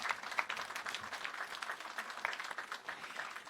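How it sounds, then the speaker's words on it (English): Outdoor crowd applause at a Veterans Day parade for the grand marshals, fairly faint and distant clapping that stays steady throughout with scattered sharper claps standing out. "Let's give them another round of applause."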